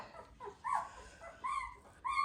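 A young black and white doodle puppy, a male about six weeks old, lets out three high, drawn-out whimpers close by, with short quiet gaps between them.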